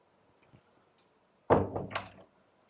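Indoors, a door is pushed shut with a solid close thunk followed by a short rattling clack of the lock, after near silence, with no one talking.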